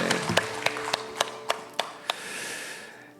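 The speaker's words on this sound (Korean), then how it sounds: "우리 승리 하나님께 영광의 박수 올려드립니다" Church congregation applauding, with a run of distinct, evenly spaced claps that ring out over a soft room wash before fading away.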